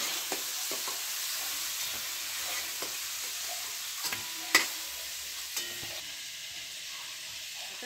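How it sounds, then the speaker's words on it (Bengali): Green cardamom and cinnamon temper in hot oil, a faint, even background sizzle broken by a few sharp spatters and pops, no talking. "ছোট এলাচ, দালচিনি ফোড়ন দিলাম।"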